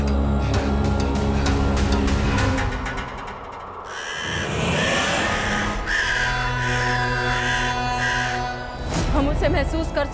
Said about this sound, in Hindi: ये चिल्लाते हुए कौवे अपशगुन है।